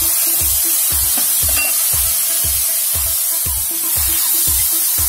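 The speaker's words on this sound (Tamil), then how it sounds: "மசாலா நல்லா குக் ஆயிடுச்சு இப்போ டொமேட்டோஸ் ஆட் பண்ணிக்கோங்க" Tomatoes hitting a pan of frying cauliflower masala set off a loud, steady sizzle, with a regular thumping rhythm of stirring beneath it, close by and without talk.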